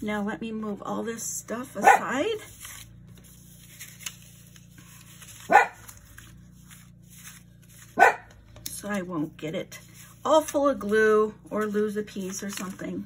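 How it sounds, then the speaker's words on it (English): A dog indoors lets out several sharp, loud barks spaced a few seconds apart, each brief and close, while someone talks calmly between them. "Excuse my dog. I don't know why he's barking."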